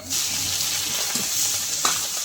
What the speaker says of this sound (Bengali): রসুন ভাজা হয়ে গেছে, এবার আমি শাকটা দিয়ে দেবো।